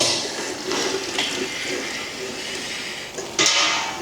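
Water runs steadily while a horse's mouth is rinsed during a dental exam at a horse shelter, a close, continuous gushing wash with a brief surge near the end.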